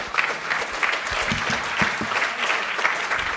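A lecture audience bursts into warm applause, dense and lively clapping with individual claps standing out, steady throughout.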